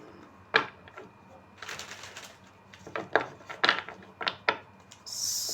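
Tarot cards shuffled by hand close up, a run of soft papery riffling bursts and light taps in an uneven rhythm, fairly quiet and free of talk.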